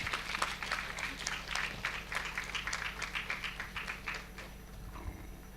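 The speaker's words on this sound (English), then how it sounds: "Big round of applause, please." Audience applause at a team felicitation event, a dense patter of clapping from a modest crowd that fades toward the end, heard indoors at a moderate distance.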